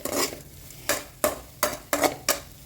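Poha being stirred in a pan over a medium flame, six sharp scraping strokes of a spoon against the pan at an even pace over a faint sizzle.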